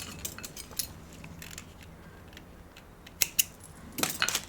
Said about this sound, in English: Now I'm going to cut a tail.